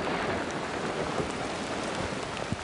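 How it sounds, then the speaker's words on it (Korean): Heavy rain pours steadily on a mountain trail, a dense continuous hiss with scattered close drops tapping nearby, loud and unbroken with no voices. "또 비 많이 떨어진다."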